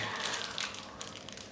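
A plastic bag holding a miniature wargaming battle set crinkles and rustles as it is handled, a steady close crackling with a few louder crunching bursts throughout.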